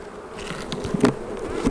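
Honey bees buzz around an opened hive, a steady close swarm hum with brief louder passes near the ear and no talking.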